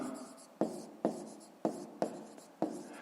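A pen writes a digit by hand on paper, a series of short scratchy strokes, each starting with a sharp tap and fading, close and quiet.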